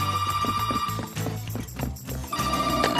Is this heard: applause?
no